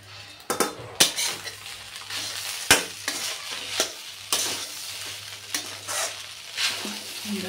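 Tarri poha mixture being stirred in a pan, with repeated spatula scrapes and metal clinks against the pan over a constant frying sizzle, close and fairly loud, irregular strokes throughout.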